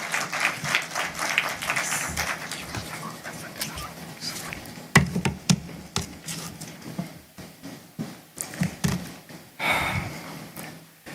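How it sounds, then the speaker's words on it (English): Audience applause fills a formal Kenyan judiciary ceremony presenting the State of the Judiciary annual report, a dense, fairly loud wash of clapping with scattered sharper claps that swells and fades over about eleven seconds. "Let us clap as we..."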